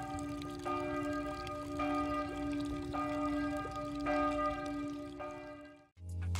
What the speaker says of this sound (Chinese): 让我们来近距离听一听教堂整点的敲钟声吧